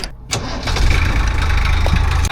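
A 1985 Ford Hino diesel truck engine cranks briefly and catches, then settles into a loud, rough, rumbling idle close by with a steady clattering diesel knock.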